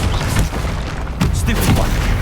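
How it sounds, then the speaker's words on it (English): In Hogwarts Legacy, a Confringo explosion spell goes off amid a loud game battle, with deep booming blasts and crackling impacts layered over heavy rumbling, dense and continuous throughout. "Protego. Stupefy. Confringo."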